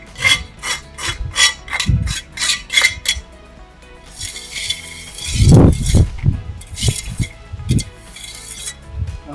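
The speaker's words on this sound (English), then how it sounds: "I always go over first and scrape some of the excess mortar off" A steel trowel scrapes excess mortar off brickwork during repointing, giving a run of short, regular rasping strokes, then a louder, heavier scrape with a few clinks, followed by more quick scratches nearby.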